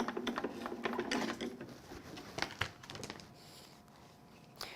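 A small crafting die cutting machine feeds a cutting mat and base plate through its rollers, making close mechanical grinding and crinkling with a few sharp clicks over roughly four seconds.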